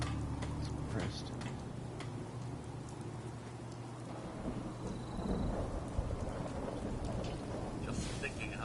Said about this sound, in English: how wonderful it would be to get out of this infernal rain